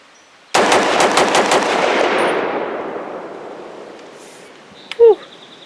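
A DoubleStar 10B AR-10 rifle fired in a rapid string of about six loud, sharp shots, each cracking close by, with the echo fading away afterward.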